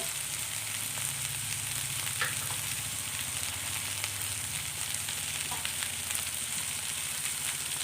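Okra sautés with turmeric powder and salt in a pan, giving a steady, close frying sizzle with faint scraping of stirring throughout and no talking.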